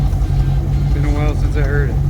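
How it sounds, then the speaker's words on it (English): A Lamborghini Countach engine runs with a deep, steady low rumble close by, and a voice talks over it. "boy, was I glad when the car fired up"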